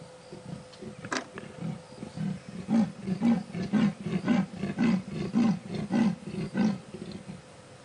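A female leopard calls on an evening safari drive, a series of about eight rhythmic, nasal chuffing roars building steadily louder, close and alone with no talk over it.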